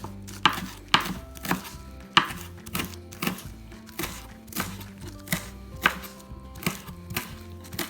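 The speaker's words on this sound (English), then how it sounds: "I'm just going to give them a nice little chop" Wild garden chives chopped with a knife on a board, a steady series of sharp, close knocks about twice a second.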